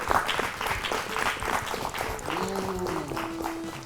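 Studio audience applause, a steady burst of hand clapping close up, with some music faintly underneath.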